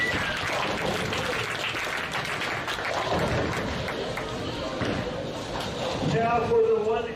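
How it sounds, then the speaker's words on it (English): Audience at a youth bowling tournament finals applauds in a large hall, a dense continuous wash of clapping with voices mixed in and a brief louder swell near the end. "So if you would please, just a round of applause for them."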